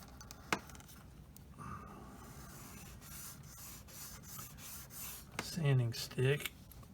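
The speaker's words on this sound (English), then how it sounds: "and just kind of sand that down like that" Soft rasping strokes of a sanding stick on a plastic 1/35 M4A3 76W VVSS Sherman tank model kit, fairly quiet and close, with a brief voice murmur near the end.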